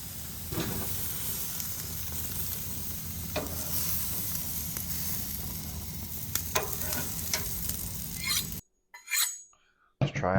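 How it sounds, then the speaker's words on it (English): Pork rib chops seasoned with salt, pepper and garlic sizzle on a grill, a dense steady frying hiss with occasional scrapes and clinks that cuts out abruptly near the end. "So we're actually going to grill a few of these up right now."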